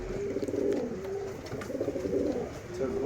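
Girebaaz pigeons coo in repeated low, throaty rolls, a pair of steady pulsing calls close by, with faint rustling between them.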